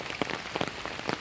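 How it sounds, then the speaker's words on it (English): Rain falls and patters on a surface close by, a dense hiss broken by quick irregular drip taps in a short burst with no voices. "I'm just taking it in and enjoying my day in the rain."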